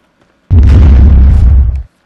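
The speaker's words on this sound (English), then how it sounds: "that bomb I wasn't supposed to run into" A bomb blowing up in the survival video game The Forest, set in its caves: one loud, close, deep boom with a short rumbling decay, standing alone.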